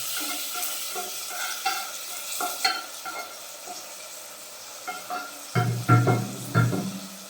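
A fried tempering is stirred into jackfruit erissery, with scattered spoon scrapes and soft clinks against the pot, growing into heavier, thicker stirring strokes near the end.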